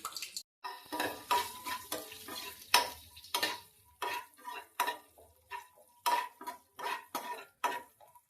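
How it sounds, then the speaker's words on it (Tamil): Cashews and raisins fry in ghee with a soft sizzle, broken by repeated rhythmic scraping and clinking of a spoon stirring against the pan, close by. "இப்போ நெய்யில் கொஞ்சம் நேரமாக வறுத்து எடுத்துக்கலாம்"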